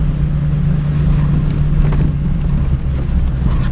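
A 1934 Ford fitted with a small block Chevy engine drives and accelerates, a loud, close, steady low engine drone mixed with wind buffeting, with no speech over it.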